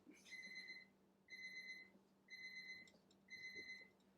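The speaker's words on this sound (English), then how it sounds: "The timer's going off." A kitchen timer alarm sounds four separate bursts of rapid high-pitched beeping, evenly spaced about a second apart, moderately quiet in an otherwise still room.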